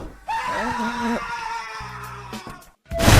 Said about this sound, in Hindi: This might be the first time a crocodile screaming for help.